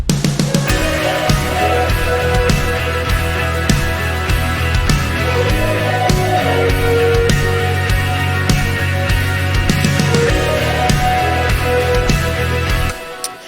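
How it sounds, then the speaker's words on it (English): A layered music track plays steadily with full, dense instrumentation and a regular beat, no voices, ending abruptly. "So here I have a little track that sounds like this."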